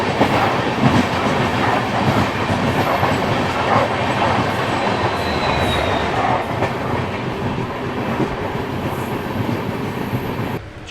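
A double decker express train running on the rails, a continuous loud rumble with rhythmic clickety-clack from the wheels and faint squeals, heard steadily from on board.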